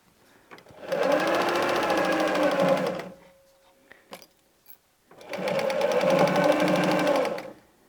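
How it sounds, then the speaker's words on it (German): Sewing machine stitching fabric for a patchwork drawstring pouch, two steady bursts of running motor and needle, a pause with a faint hum between them, loud and close with no talk. "ich nähe einmal zurück. Und wir nähen weiter."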